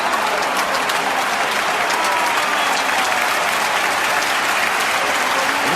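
Juventus fans in a stadium applaud in a dense, loud, continuous wash of clapping that holds steady throughout with no break.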